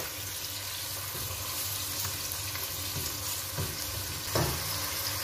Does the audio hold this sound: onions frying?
yes